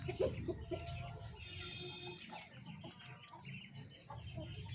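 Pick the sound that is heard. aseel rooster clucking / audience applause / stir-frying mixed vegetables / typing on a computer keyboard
aseel rooster clucking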